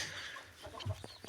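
Hens in a coop where they scratch and scatter their eggs, giving a few soft, brief clucks close by over low rustling and shuffling.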